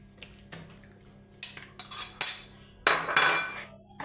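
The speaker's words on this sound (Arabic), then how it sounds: "نخلط هذاك الدجاج غايه ونخليه يشرب هذه لا مارينا" Raw chicken being mixed by hand in marinade in a bowl for homemade crispy KFC-style fried chicken, heard as close, intermittent clinks, wet stirring and scraping against the dish in short bursts with quiet pauses between.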